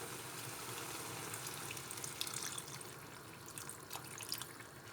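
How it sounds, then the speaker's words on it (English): Water pours steadily into a cooking pot of purslane stew, a continuous splashing gush with slight gurgles, close and fairly quiet, no voices. "So next we cover it up with water."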